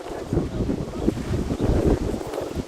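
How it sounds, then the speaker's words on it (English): Wind buffets the microphone in a steady, gusty rumble, loud and close, with no voices, at Bulger Park in Melrose Park, Illinois. "We've had a very windy summer out here in the Windy City."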